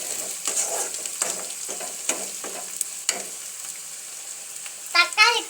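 Brinjal sautéing for kara kuzhambu with potato in a pan, giving a steady sizzle broken by repeated scraping stir strokes, with a louder burst of frying near the end and no talk.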